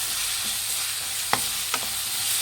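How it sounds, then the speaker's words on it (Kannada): Grated raw mango is stirred in a pan for chitranna over low flame, a soft continuous sizzle with a couple of brief spoon scrapes against the pan. "ತುರಿದಿಕ್ಕಿರೋ ಮಾವಿನಕಾಯಿ ಹಾಕ್ಕೊಳ್ಳಿ. ಫ್ರೆಂಡ್ಸ್, ಚೆನ್ನಾಗಿ ಮಿಕ್ಸ್ ಮಾಡಿ."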